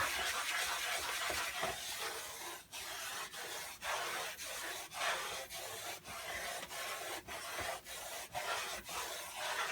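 Sausage grease gravy base being stirred in a pan, a steady scraping and rubbing of the utensil against the pan bottom in repeated strokes, close and fairly loud, with no talking.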